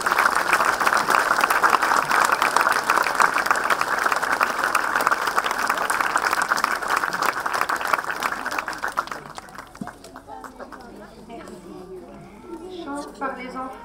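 An audience at a Belgian liberation anniversary ceremony breaks into sustained, dense applause for the volunteers, fading out after several seconds into quieter murmurs and talk.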